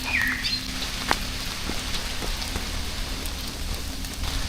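Steady rain falls through a Danish forest, a dense even hiss of drops on leaves and ground, with a faint bird chirping once or twice in the background and no voices.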